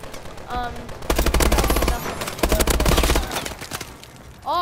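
Bal 27 rifle fire in Call of Duty Advanced Warfare, two loud rapid automatic bursts of close gunshots, each about a second long, with brief game sound effects around them.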